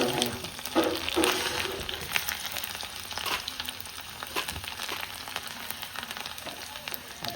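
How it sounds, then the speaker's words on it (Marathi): Cumin seeds and chopped garlic dropped into hot oil for a soaked chana dal chutney, giving a soft crackling sizzle with scattered pops throughout, fairly quiet and without talk. "तेल गरम झाले छान पण छान आता याच्यामध्ये थोडंसं जिरं घालायचं आणि आपण जे लसण कट केलं ना"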